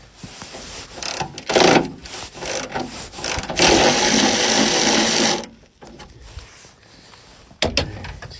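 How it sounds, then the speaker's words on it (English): Mechanical rattling and clicking near a wagon's car door while window guide pieces are unbolted, with a sustained loud burst of power-tool whirring in the middle and scattered metallic knocks. "Looks like they're just bolted in. I'm just going to take them off quick."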